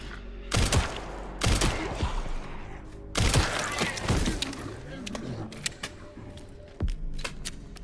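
Gunfire against zombies in Resident Evil Requiem: sharp individual shots ring out every second or so, with thuds and impacts between them and a voice talking over the action.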